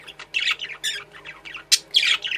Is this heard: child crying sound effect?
no